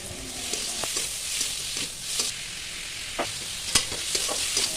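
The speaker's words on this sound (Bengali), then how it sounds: "কড়াইয়ের মধ্যে তেল দিয়ে তার মধ্যে গোটা জিরে ফোড়ন দিয়ে পেঁয়াজ কুচি, কাঁচা লঙ্কা, টমেটো, আদা রসুন বাটা দিয়ে ভাজতে হবে।" In a wok of hot oil with whole cumin, chopped onion, green chili, tomato and ginger-garlic paste fry for a yogurt crab curry, giving a constant soft sizzle with scattered scraping stir strokes.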